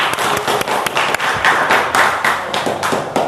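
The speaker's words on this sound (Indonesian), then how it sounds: "Oke, tepuk tangan." Children at a santri humor show clap together, a lively run of close, sharp handclaps with a steady broken rhythm, pulsing strongest midway and continuing to the end without talk.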